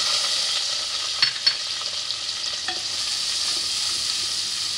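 Onions and curry leaves sizzle and crackle in hot oil, a steady bright frying hiss with a couple of sharp pops and light stirring clatter.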